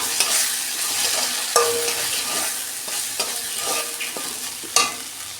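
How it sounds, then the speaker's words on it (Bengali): Eggplant frying with spices in a pan for a fish curry, a steady close sizzle with occasional scraping stirs of the spatula and a few louder clinks, no talking. "এখন বেগুনটা দিয়ে দিচ্ছি"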